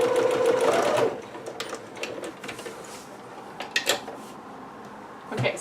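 A home sewing machine runs briefly to finish a seam on a Pikachu dress, then stops, followed by scattered soft clicks and handling knocks of fabric and machine parts, close and fairly quiet.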